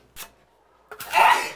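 A single sneeze bursts out close and loud after a short intake of breath, in a quiet room where drywall is being mudded and taped.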